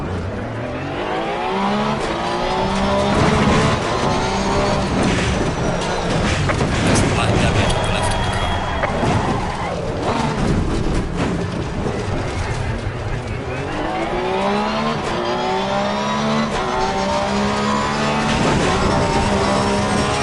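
Race car in Assetto Corsa Competizione, its loud engine revving up and down through repeated gear changes with braking and slowing in between. The engine noise runs continuously through the whole stretch.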